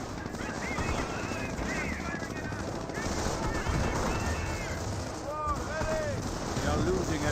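Rapid machine-gun fire and scattered shots in the WWII strategy game Company of Heroes 1, a steady crackling battle din with chirping unit sounds, partly under a commentator's talk.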